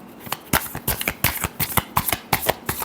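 Tarot cards being shuffled by hand in a final shuffle: a quick run of sharp, papery riffles and taps in an uneven rhythm, close up and alone.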